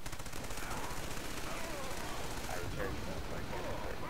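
Rapid automatic gunfire from the shooter game Killzone 3 rattles in dense bursts across the whole stretch, fairly quiet overall, with someone talking over it.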